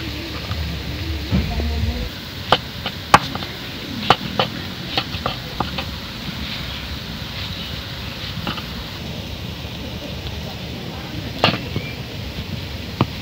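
Kalmi shak (water spinach) frying in a pan, a low background sizzle broken by irregular sharp clicks and scrapes from stirring, with a voice talking over it.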